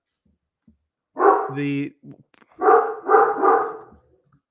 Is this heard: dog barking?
yes